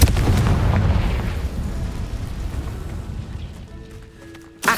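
A Confringo blasting spell bursts in Hogwarts Legacy with a loud opening blast, a long rumbling decay, then a second sharp impact right at the end.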